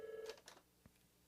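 A telephone rings in a radio station studio, a brief, faint electronic tone followed by a couple of short chirps, heard alone and quiet.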